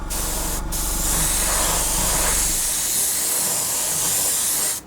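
An airbrush lays a fine mist of camouflage paint over a 1/48 scale Tamiya Supermarine Spitfire Mk.I model, producing a continuous close airy hiss that holds steady for several seconds before cutting off at the end.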